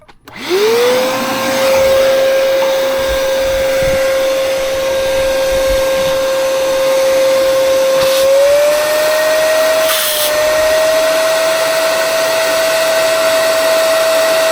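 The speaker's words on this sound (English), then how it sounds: "I'm going to run this shop vac over here" A shop vac starts up and runs loud and steady near a Mack semi truck, its whine rising slightly in pitch partway through, with no talk over it.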